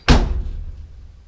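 A door is hung on a 1970 VW camper bus under restoration and lands with one heavy metallic thunk, close and loud, and the dull resonance dies away over about a second.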